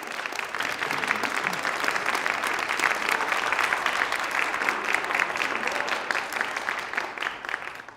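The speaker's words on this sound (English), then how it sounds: "let's have one more last applause for everyone" Audience clapping at the close of a student debate, a dense, even wash of applause held steady for several seconds before tapering off at the end.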